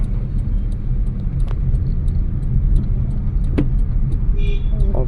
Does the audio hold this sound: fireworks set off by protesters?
no